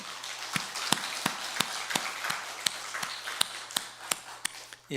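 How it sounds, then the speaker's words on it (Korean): During a praise worship service, a congregation in a church claps in a slow, spaced rhythm, sharp individual claps standing out over a quiet room with faint background hum. "우리 하나님께 영광의 박수 한번 돌릴까요?"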